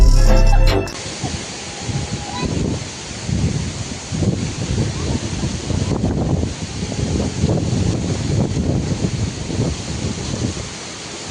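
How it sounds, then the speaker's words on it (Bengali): Strong storm wind buffets outdoors under a cloud-filled sky, a continuous roaring rush with gusty swells. It follows a brief loud thump at the start. "দেখো গাইস এত পরিমাণে হাওয়া হচ্ছে যে হাওয়ায় আমাকে উড়িয়ে নিয়ে যাচ্ছে"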